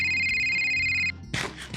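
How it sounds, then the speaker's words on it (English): A phone ringtone for an incoming call plays in a Minecraft-style game server: a steady, bright electronic tone rings for about a second and cuts off, followed by a few short rustling noise bursts. "Hi, I have a phone call."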